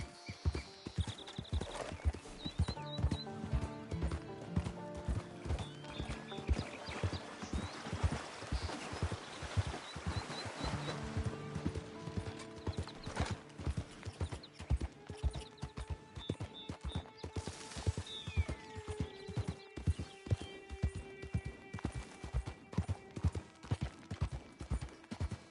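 Horse hooves clip-clopping in Red Dead Redemption 2, a steady rhythmic trot running throughout, with a horse neighing partway through over game music and ambience.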